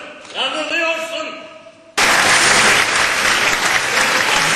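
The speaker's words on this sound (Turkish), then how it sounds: "Oyun sonunda izleyiciler devlet tiyatrosu oyuncularını ayakta alkışladı, çiçek attı." After a state theatre company's play in Çaycuma, the audience breaks into loud, dense standing applause that continues steadily, following a stretch of stage speech.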